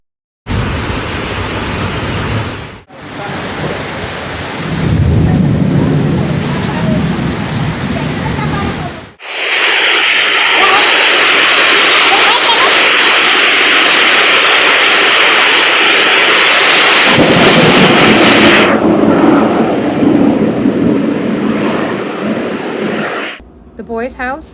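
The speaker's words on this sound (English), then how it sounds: "we were hit by a frightening storm at Casa Guatemala with lots of thunder and lightning" Heavy tropical rain from a violent thunderstorm at Casa Guatemala pours loud and steady, its roar rising into a harsh, dense wash midway through, with brief breaks where the sound drops away and a deep rumble underneath.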